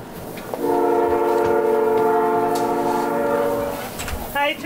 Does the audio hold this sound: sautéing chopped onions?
no